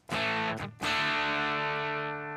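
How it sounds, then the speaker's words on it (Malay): An electric guitar chord through a crunch overdrive effect, struck hard twice with a brief choke between strums, then left to ring loud and sustained before slowly thinning out. "saya tak buat bunyi distortion macam ni terus. Saya buat bunyi crunch je dulu."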